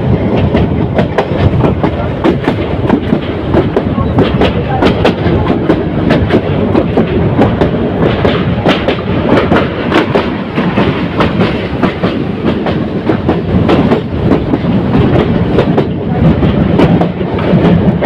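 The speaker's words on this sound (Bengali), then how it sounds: "ট্রেনটি একটি বাঁক নিয়ে দ্রুত গতিতে সামনের দিকে এগিয়ে চলছে।" A Bolaka Commuter passenger train from Mymensingh to Dhaka runs fast around a curve through farmland, producing a loud, continuous rumble with rapid rhythmic clickety-clack of wheels over rail joints from start to finish.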